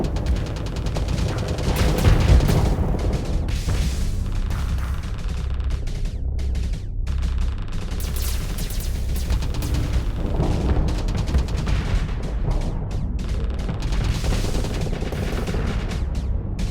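A ship in Starsector fires volleys of missiles at asteroids, a steady barrage of rapid popping and rumbling bursts in a dense, continuous layer of space combat noise.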